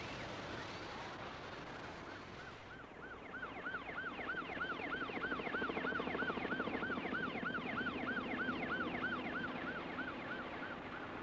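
A beach alarm siren on the Queensland coast of Australia wails in a steady rising-and-falling cycle, warning bathers of sharks; it swells in loudness after a few seconds and keeps sounding over faint background noise.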